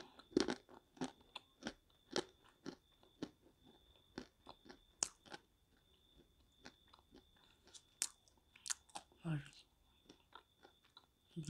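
Peeled prunes are chewed and crunched close to the mic in quiet surroundings, producing a steady series of sharp, wet crunches and smacking bites with soft breathy sounds between them.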